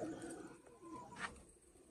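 Sialkoti pigeons coo softly in a short, quiet burst, a low murmuring call close by with little else around it.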